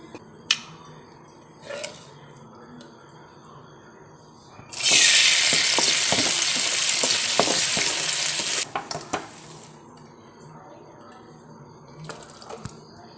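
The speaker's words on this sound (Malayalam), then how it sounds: "ഞാൻ താളിച്ച ഉള്ളി മുളകെല്ലാം കറിയിലേക്ക് ഒഴിച്ചു കൊടുത്തിട്ടുണ്ട്" Tempered onion and chili poured into a tamarind okra curry, giving a loud sizzling burst of several seconds between sparse clinks and taps.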